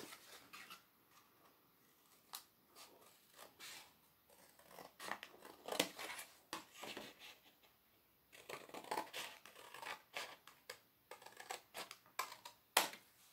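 Scissors cut along the sides of a handmade craft frame, giving close, quiet, irregular snips and crisp clicks with short gaps between them, and no talking.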